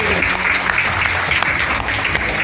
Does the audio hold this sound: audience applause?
yes